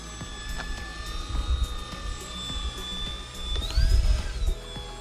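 Horizon Hobby RC plane flying overhead, a high whining electric motor with a pitch that rises and falls as it passes, steady and moderately close.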